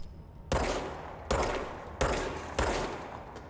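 Gunfire from the video game Control as the player shoots at speakers: four loud, abrupt bursts at roughly even intervals, each decaying into a lingering echo, with no talking.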